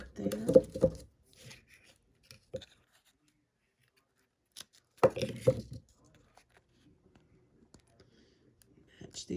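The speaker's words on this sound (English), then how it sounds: "I'm going to cut it right there" Craft material for a snow globe is cut in two short bursts of crisp snipping and clicking, separated by near-silence with a few faint taps, close and moderately loud.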